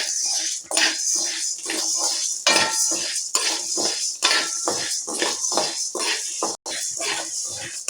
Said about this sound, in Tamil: மிளகையும் போட்டு வறுத்தெடுத்துக்கிறோம்.